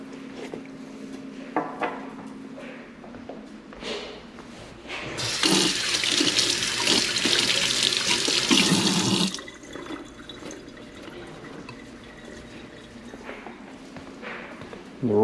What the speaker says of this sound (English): so I can wash my hands